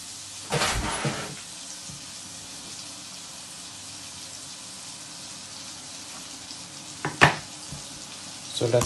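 Butter melts in a pot with a faint, steady sizzle, broken by a few sharp clanks and knocks of cookware.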